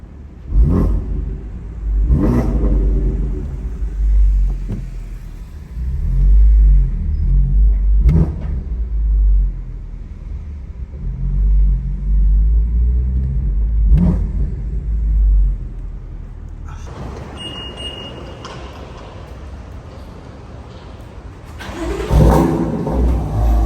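A throaty MPE aftermarket exhaust with downpipe barks through several sharp revs over a low, rumbling idle, loud and close.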